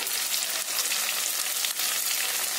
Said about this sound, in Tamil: தக்காளி நல்லா மையா வதங்கணும்.